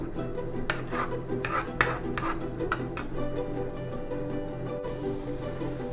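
Masala for tiger prawns sautés in a tawa, a spatula scraping and clinking against the metal pan in irregular strokes over a low, steady background hiss.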